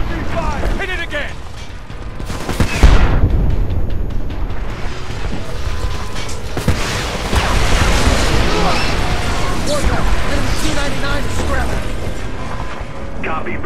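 Heavy combat from the video game Homefront as a tank is targeted: dense, continuous gunfire and booming explosions fill the whole stretch with a loud, chaotic mechanical rumble, and a voice shouts over it.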